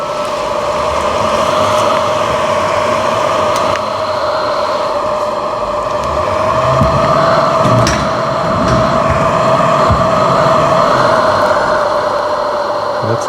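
Tesla Model 3/Y pedestrian warning sound while driving forward: a steady, moderately loud electronic hum with a sustained tonal drone, swelling slightly over the clip without any talk.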